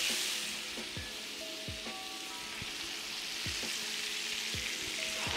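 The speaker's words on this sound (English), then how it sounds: "We're going to lay our fish down, skin side down." Cod fillet frying skin side down in foaming, bubbling butter, a steady close sizzle with a few soft tonal clinks and scrapes from the pan, no talking.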